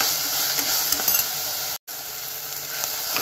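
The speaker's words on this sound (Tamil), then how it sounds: "அந்த ஒரு தக்காளியை போட்டு நல்லா போட்டு வதக்கணும்." Onions and tomato frying in a pan for mutton curry, a steady close sizzle with light scraping as they are stirred, briefly broken by a short gap.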